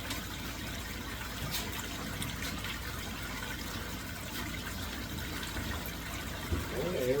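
Running water rinses off a gold cube, a gold-prospecting sluice device, in a steady, close, continuous wash of splashing and trickling water, with a slightly stronger gush near the end.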